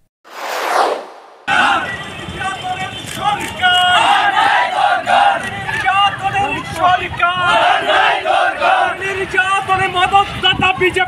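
A crowd shouts protest slogans at a rally, with loud rhythmic chanting in call-and-response bursts from many voices, following a short whoosh at the start.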